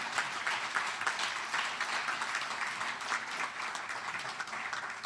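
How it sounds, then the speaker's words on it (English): An audience at an Illinois manufacturers' awards event applauds with sustained, even clapping that holds steady throughout, loud and close without any talk over it. "How about a round of applause?"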